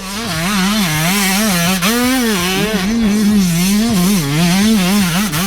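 Two-stroke dirt bike engine, a Yamaha YZ125, revving loud and close in a continuous rising and falling wail, its pitch sweeping up and down through repeated throttle blips with no talking.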